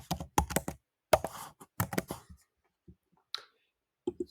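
Typing on a computer keyboard, close and clear: quick clusters of crisp key clicks in short bursts separated by pauses, then a few isolated taps.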